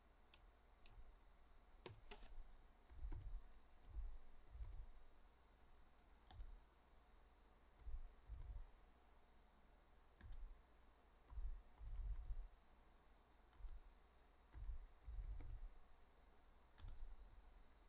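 Keys clatter on a computer keyboard while settings values are entered, quiet close clicks arriving in short irregular bursts with brief pauses between them.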